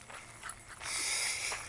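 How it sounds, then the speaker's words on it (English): A big dog makes brief, close, breathy sounds, first a few short snorts or pants and then a longer rushing huff, with no talking. "Oh, there's a big dog, Mr. Fee."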